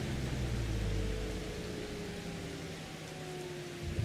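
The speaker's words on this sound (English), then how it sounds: "Oh no, it's raining." Rain falls in Farming Simulator 25 as a steady, dense hiss under a low engine-like hum, unbroken and without voices.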